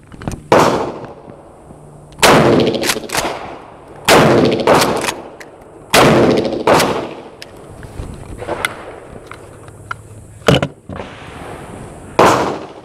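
Aguila buckshot minishells fire from a Mossberg Shockwave at an outdoor range, seven or eight sharp, loud booming reports spaced a second or two apart, each with a brief echoing tail.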